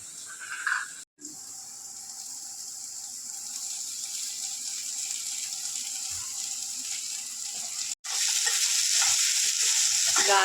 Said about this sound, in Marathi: आता हिंग टाकूया